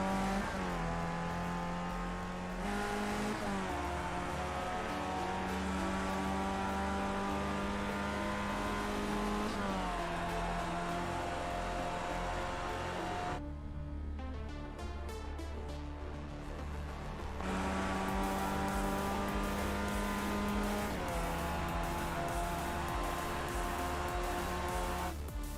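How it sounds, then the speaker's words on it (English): Race cars lapping the Snetterton circuit in the iRacing sim, engines droning and revving steadily with pitch rising through gears and dropping on lifts, several cars overlapping throughout without talk. "We see quite a bit of cars still making their laps."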